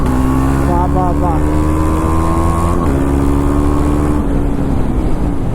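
A KTM Adventure 390 motorcycle accelerates close by. Its loud, steady engine drone climbs in pitch as the bike pulls, with a brief dip partway through before it rises again.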